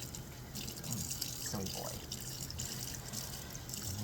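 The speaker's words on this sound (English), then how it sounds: "The stream of water is right there, little boy." Water runs steadily from a tap during a cat's summer bath, a continuous hiss with light drips, while a person talks over it.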